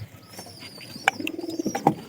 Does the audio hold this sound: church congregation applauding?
no